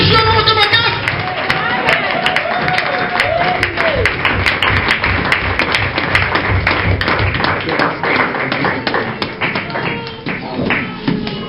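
A church congregation claps for a pastor in loud, steady applause that lasts throughout, with crowd voices and a speaker talking over the clapping.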